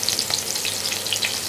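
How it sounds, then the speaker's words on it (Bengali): Chopped onions hit hot oil and fry, a bright, close, steady sizzle with crackling pops throughout the brief moment. "এবার নাহিয়ান পেঁয়াজ দাও, আস্তে আস্তে পেঁয়াজ ছাড়ো, আস্তে করে ছাড়বা"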